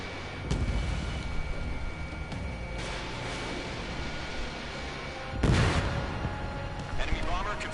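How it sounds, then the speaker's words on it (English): Missile launch and explosion in the Ace Combat 7 flight game: two loud, broad blasts, one early and one near the end, over a constant roar of jet engine noise and radio voices. "Missile launched."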